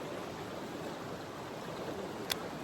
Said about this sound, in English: Stop the waterfall. Waterfall.